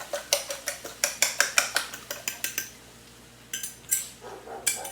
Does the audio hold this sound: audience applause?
no